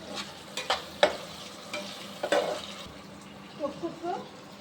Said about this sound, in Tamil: தக்காளி போட்டு வதக்கணும்